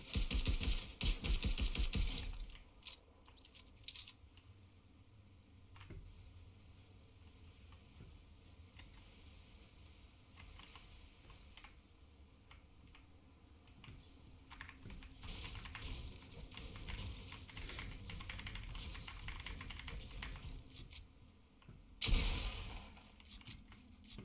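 Steady computer keyboard typing during a Fortnite match, close and continuous clicking over most of the stretch with a few louder bursts of game noise.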